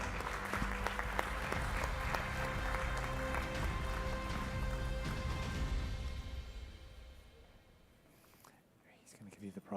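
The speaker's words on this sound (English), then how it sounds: "And give them a round of applause." A prize ceremony audience applauds steadily over music-like tonal sounds, the clapping fading out after about seven seconds into near quiet before a final rustle.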